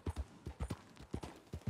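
Horse hooves clip-clopping in a quick galloping rhythm in Red Dead Redemption 2, several rapid thumps in pairs, close and clear with no talking.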